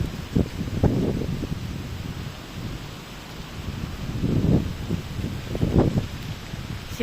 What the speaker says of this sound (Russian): осенний, очень ветреный день